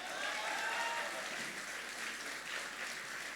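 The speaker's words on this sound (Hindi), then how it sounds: "एक बार अपने लिए दमदार तालियां बजाइए" An audience applauds at a Sahitya Aaj Tak literary event with lyricist Manoj Muntashir, the clapping a continuous, fairly soft wash that holds steady from start to finish.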